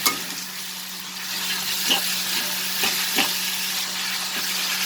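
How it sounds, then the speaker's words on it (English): A stuffed pointed gourd mixture with meat sizzles softly in a pan while a spoon stirs it in a few scraping strokes. "Mix it nicely."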